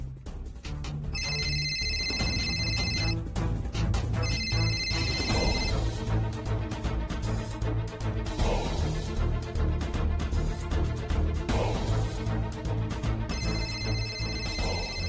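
A mobile phone rings again and again with repeated incoming calls, its electronic tone pulsing in short bursts over a busy, loud background of music, steady and close throughout.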